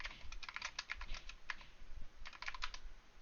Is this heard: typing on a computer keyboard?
yes